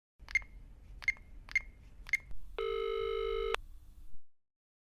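Telephone call being placed to Rachel: four short evenly spaced tones, then a sustained steady ringback or dial tone that ends abruptly, with no voices.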